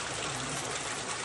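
Water pours steadily at Kumble waterfall, a dense, even rushing roar that fills the whole moment without pause and has no voices over it.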